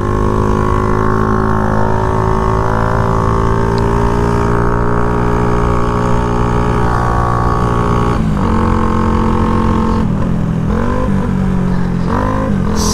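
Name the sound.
Shineray motorcycle engine running on the road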